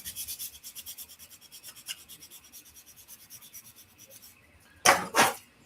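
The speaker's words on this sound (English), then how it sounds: "I want to just take a quick higher grit here so I can smooth that out." Higher-grit sandpaper rubs over the surface of a 1/72 scale Dune Atreides Ornithopter model in quick, rhythmic close strokes, then pauses before two louder, harsher passes at the end.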